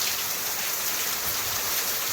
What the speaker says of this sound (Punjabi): ਬਾਰਿਸ਼ ਫੁੱਲ ਵਟਾ ਫੁੱਲ ਜਿਹੜੀ ਹੈਗੀ ਉਹ ਪੈ ਰਹੀ ਆ